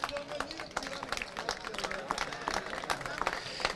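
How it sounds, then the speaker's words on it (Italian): At a team presentation in Bellaria Igea Marina, an audience claps for the team managers coming on stage, with quick, irregular claps mixed with crowd babble and voices, fairly faint and distant. "Mirko Pirani e Luca Zamagni, che vorrei qui e un grosso applauso,"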